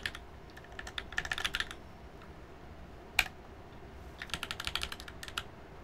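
Quiet, close keyboard typing with GMK Cyrillic keycaps, white on black, comes in two bursts of rapid clacks separated by a pause, with one sharper isolated keystroke in between.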